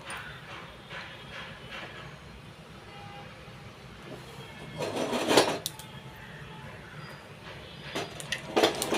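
Mustard seeds spluttering in hot coconut oil in a pan, giving a low steady crackle that turns into louder bursts of popping toward the middle and end.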